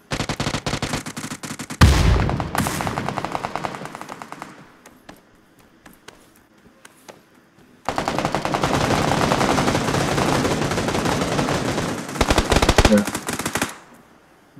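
Rapid automatic gunfire in a video game, loud sustained bursts broken by a quieter gap with scattered single shots, then another long burst and a final flurry.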